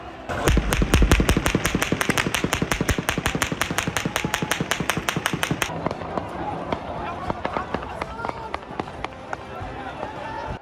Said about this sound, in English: the Iraqi military resorted to machine gun fire, explosions and tracer fire